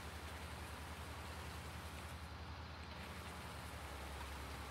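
Steady rain in the farming game Farming Simulator 22, a dense, even hiss with a low rumble underneath, continuous and fairly loud for the whole stretch with no talking.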